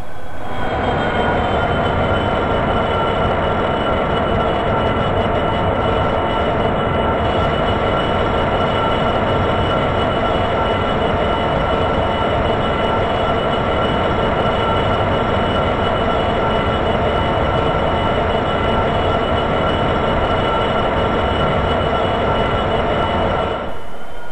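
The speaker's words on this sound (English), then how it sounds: "The train now shunts forward into the oil terminal." A freight train of tank wagons shunts forward into an oil terminal, rumbling steadily and loudly close by for a long stretch, with metallic wheel squealing and grinding over the rails and no talking.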